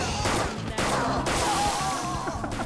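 Rapid bursts of gunfire from a Persona 5 Royal battle, several close, loud volleys in quick succession with brief gaps between them and no talking.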